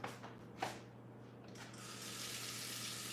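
Tap water runs steadily into a jug during a baking soda mixing session, a brief clatter giving way to a continuous close rushing hiss.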